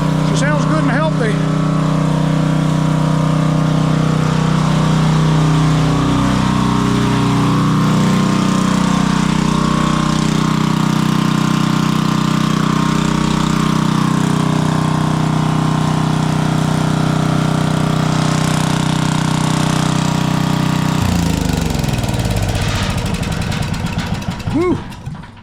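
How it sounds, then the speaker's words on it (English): A Coleman Powermate Powerbase 5000 portable gasoline generator engine runs steadily at a loud, even idle, then changes pitch near the end as it winds down. "Nice and smooth, generator works."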